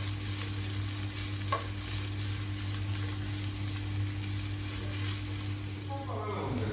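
Oil sizzles steadily in a pan as onion and carrot are sautéed for a street-style dish, a continuous close frying hiss with occasional stirring scrapes and no talk.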